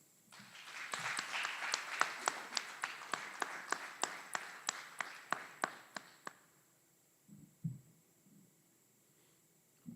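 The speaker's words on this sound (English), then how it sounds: "Please join us in giving a round of applause for these outstanding drill sergeants and instructors" Sparse, evenly spaced claps at an Army aviation training graduation ceremony, honoring drill sergeants and instructors, sounding thin and distant, then stopping abruptly after about six seconds, followed by a few faint thumps in a quiet hall.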